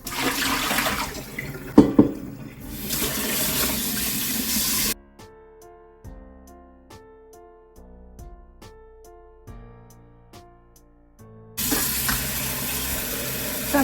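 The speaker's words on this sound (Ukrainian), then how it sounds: "Каструльку потрібно помити." Water runs steadily from a tap, splashing into a sink as a cooking pot is washed, with a quieter musical stretch in the middle before the running water returns.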